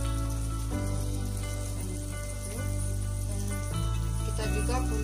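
Shrimp and onions sizzle steadily in hot oil in a pan, a continuous close crackling hiss with soft clatter of stirring and quiet talk in the background.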